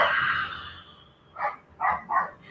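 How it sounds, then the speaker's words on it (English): Dogs barking during an online yoga class: after a fading voice, three fairly loud, separate barks ring out at a steady spacing, close by. "Our dogs are very excited to practice with us also today."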